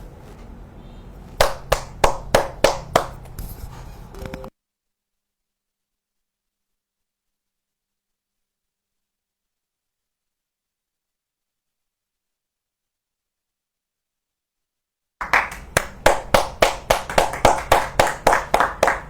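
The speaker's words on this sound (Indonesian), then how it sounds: "Kita harus tepuk tangan dulu." A few bursts of brisk hand clapping, roughly a dozen sharp claps in quick succession, then a long stretch of total silence before another run of rapid claps starts up, fairly close and clear.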